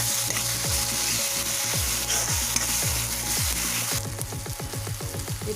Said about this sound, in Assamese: এতিয়া আমি এইখিনি অকণমান ভাজি লৈছোঁ।